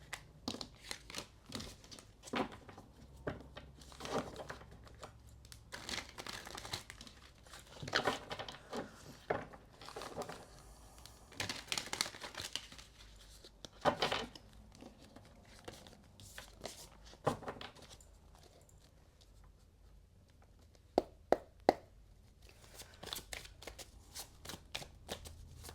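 Tarot clarifier cards are shuffled by hand in soft, irregular riffling bursts and slaps, fairly close but quiet, with a few sharper taps near the end.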